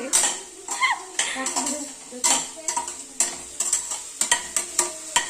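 Kebab mixture frying in a pan, a sizzle under repeated sharp scrapes and knocks of a spatula against the pan in an uneven rhythm, close and fairly loud.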